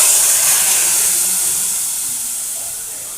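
A hot tempering of cumin, curry leaves and asafoetida for pepper rasam gives a loud, continuous sizzling hiss close by that slowly fades over a few seconds, with no voices.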